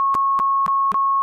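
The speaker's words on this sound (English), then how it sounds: "I can bleep it out if you want me to bleep it out." A steady censorship bleep tone runs the full length, a continuous pitched beep briefly punctuated by four short bursts of clipped sound at regular intervals.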